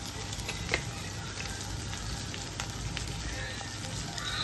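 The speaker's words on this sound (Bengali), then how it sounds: "আদা রসুনের পেস্টটা দিয়ে আমি আরেকটু ফ্রাই করব যাতে আদা রসুনের কাঁচা সেন্টটা চলে যায়" Ginger-garlic paste fries in hot oil for a Bengali paneer chicken dish, giving a continuous, even crackling sizzle at moderate volume with a few soft pops and no talking.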